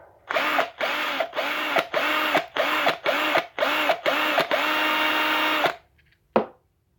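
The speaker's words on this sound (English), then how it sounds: "Let's get to some drilling." A small power drill buzzes in a series of short rhythmic bursts while drilling out 1:64 diecast car wheels, then runs continuously for a moment before stopping, followed by a single faint knock.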